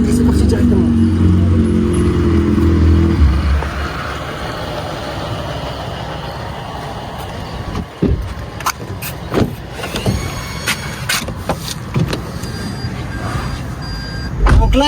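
A car drives through Pakistan, a loud engine rumble up front giving way to a quieter cabin hum with scattered clicks and knocks, while people talk inside.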